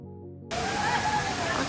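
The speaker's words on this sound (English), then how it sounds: "welcome to Tumalog Waterfalls" Tumalog waterfall roars as a broad, steady rush of falling water after a short quiet lead-in, moderately loud and continuous.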